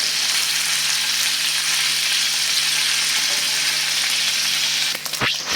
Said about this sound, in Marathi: आणि छान गोल्डन ब्राऊन होईपर्यंत हे पनीर आपण फ्राय करून घेऊया